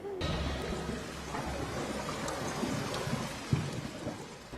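Heavy rain pours steadily in a dense, even hiss while low thunder rumbles beneath it, with one dull thump near the end.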